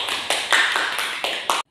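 Classroom applause from a group of students at the end of an English teaching lesson, a steady close patter of many hands clapping for under two seconds before stopping abruptly.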